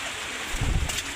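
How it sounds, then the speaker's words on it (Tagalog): Dense, steady hiss of heavy rain, with a brief low thump partway through. "Yan na, lumalakas na yung ulan."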